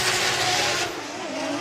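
Toyota GR86 drift race cars running close together on a track, with a steady loud engine roar and tire hiss that drops slightly partway through, then holds.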